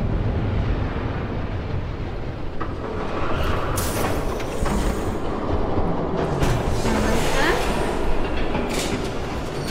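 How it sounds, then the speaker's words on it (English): A train rumbles close by in the Batman: The Telltale Series game, a loud continuous rolling roar with clattering bursts that swell as it nears, with faint voices partly underneath. "There's a train coming."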